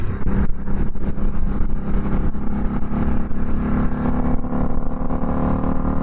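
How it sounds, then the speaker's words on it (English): Harley-Davidson V-Rod Night Rod Special motorcycle accelerating on a highway, a loud continuous engine roar climbing steadily with strong low rumble and wind, heard from the rider's position. "when you get up over that and roll on, man, that's where you're really feeling this thing start to climb"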